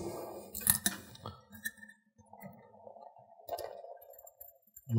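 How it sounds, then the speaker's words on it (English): A cranberry whiskey sour made with egg white is strained into a martini glass, with a few bright glass clinks near the start, then a soft thin trickle of liquid, close and quiet with no talk. "We're going to strain this."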